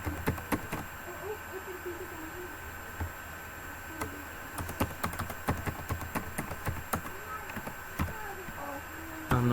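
A password is typed on a computer keyboard as a string of irregular, crisp key clicks that come in quick bursts and pauses, fairly close.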